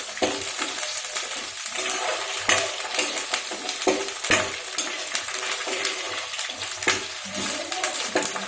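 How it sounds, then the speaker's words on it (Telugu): Green chillies fry in a pan with a continuous crackling sizzle, punctuated by sharp clinks and scrapes as a utensil stirs them, close and fairly loud with no talking. "బాగా వేగనివ్వాలి."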